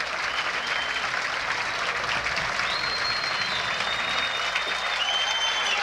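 Golf gallery applause around the 18th green at the 1984 U.S. Women's Open final round, a steady, slightly distant roll of many hands clapping outdoors, sustained throughout with a few whistles on top.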